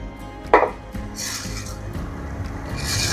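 Soaked, drained rice tipped into a peri-peri chicken pan and stirred, giving a brief clatter of grains hitting the pan followed by steady scraping and sizzling, with no talk.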